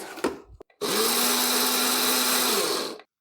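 Electric spice grinder whirring through whole spices for rye bread, the lid sealed with cling film; a steady close motor roar starts abruptly after brief clicks and runs about two seconds before cutting off.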